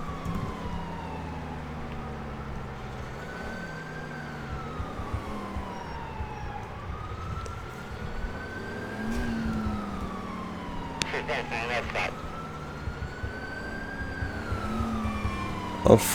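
Police sirens from GTA IV with the LCPDFR mod wail continuously with rising and falling pitch sweeps, a steady engine drone beneath and brief radio-like bursts near the end.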